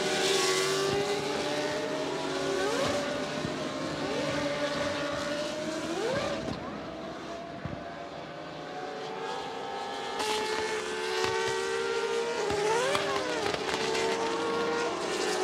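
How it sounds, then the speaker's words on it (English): Race cars in an AutoGP race at the Hungaroring circuit circling behind the safety car, engines droning and rising in pitch as cars pass, several overlapping passes with a steady loud engine bed throughout. "Antonio Pizzoni behind the safety car, leading the field around as we get ready to go green this time by"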